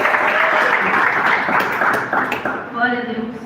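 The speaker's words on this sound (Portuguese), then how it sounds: "E mais palmas para Jesus." A church congregation claps loudly in a dense, sustained burst during a Portuguese-language evangelical service. The applause fades near the end as a voice speaks over it.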